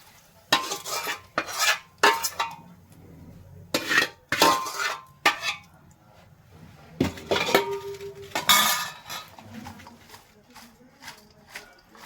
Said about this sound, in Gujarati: વઘાર નાખવાનું શરૂ કરી દીધું છે ખમણમાં